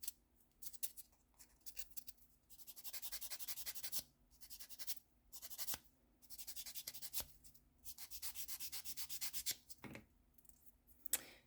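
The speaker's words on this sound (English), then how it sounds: "And now we just want to file it a little bit to get rid of the excess and any lumpiness that's been created." A fingernail filed with a nail file after a tea-bag split repair: faint, close, raspy back-and-forth strokes in short bursts separated by brief pauses, with no talking.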